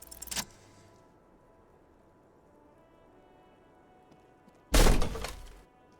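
In the video game Disco Elysium, a small, heavy door being forced gives a sharp cracking thud, then a quiet pause, then a second louder splintering crack with a brief rattling tail.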